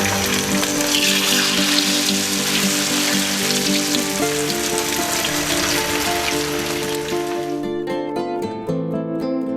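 A steady sizzling hiss of food frying in a wok, dense and continuous, cutting off near the end as clattering sounds take over.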